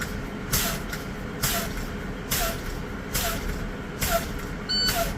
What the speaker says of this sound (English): I'm going to continue pumping my service brake.